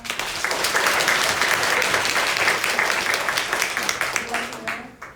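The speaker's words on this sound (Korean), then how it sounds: "힘차게 박수 부탁드립니다" A church congregation in Cheonan bursts into loud, sustained applause during a children's award ceremony at a worship service, with dense clapping filling the hall before it thins out and fades near the end.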